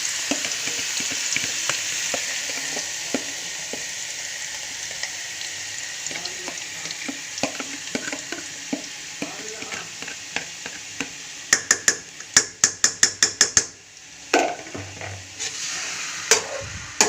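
Chicken frying in oil in a kadhai, a continuous close sizzle with soft clicks and scrapes, ending in a run of sharp metallic knocks and spatters.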